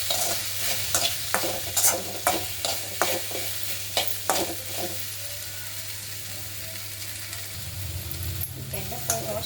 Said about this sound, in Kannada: ಬೆಂಡೆಕಾಯಿ ರೋಸ್ಟ್ ಆಗಿದೆ